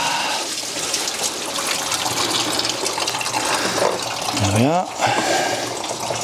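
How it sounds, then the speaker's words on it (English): Coolant pouring out of a BMW radiator's lower hose, a steady loud splashing gush of liquid draining into a container, with someone speaking briefly over it. "There's going to be a lot of coolant come out of this"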